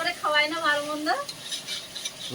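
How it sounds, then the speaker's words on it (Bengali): Meat braising in spiced oil in a pan, with a brief voiced sound first and then soft scraping stirs over a faint sizzle, close up. "এদিকে মাংসটা খুব সুন্দর করে কষানো হচ্ছে, দারুণ সেন্ট বেরোচ্ছে"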